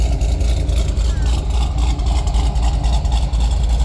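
A 2002 Corvette C5 Z06 with a BTR cam and Trick Flow heads idles with a steady, dense low rumble, loud and close throughout, with faint voices in the background.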